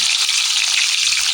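Fish sizzles and crackles in a pan of hot oil, a dense, continuous frying hiss close to the microphone with no voices.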